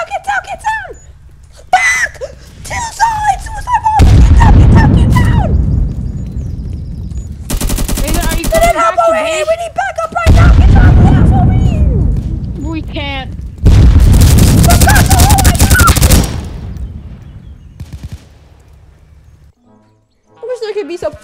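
A suicide bomb blast and bursts of automatic gunfire in a Roblox war game, loud booming explosions repeating with rattling shots and shouting voices talking over the chaos throughout.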